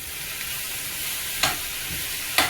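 Onions, cashews and tomato sizzle steadily in a pan, with a continuous soft frying hiss and two brief sharper scrapes of stirring, close and alone without talk.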